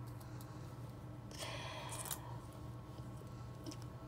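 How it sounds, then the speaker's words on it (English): Scissors snip through hair in a home haircut, a few quiet, brief cutting sounds clustered together against a faint steady room hum. "I got my scissors and I got my hair. And I'm finna cut my hair"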